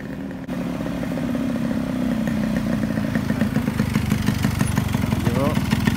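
Yamaha RX100 two-stroke motorcycle engine running steadily near the listener in lakeside Pokhara, a continuous throbbing drone with rough clattering pulses throughout, while people talk over it.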